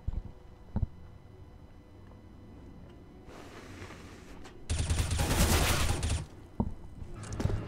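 Gunfire in a CS:GO pro match on the Cobble map: a couple of sharp early shots, then a dense, loud burst of rapid fire lasting over a second, followed by a few scattered single shots.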